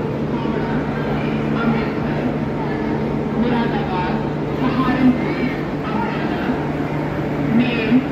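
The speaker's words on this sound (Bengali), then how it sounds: "আর এখন বাজলো 8:25, ছেড়েও দিল বারেলি থেকে আমাদের ট্রেন।" The Kashi Vishwanath Express rolls along after pulling out of Bareilly, a steady low rumble with faint clicks and rattles from inside the carriage while a person talks over it.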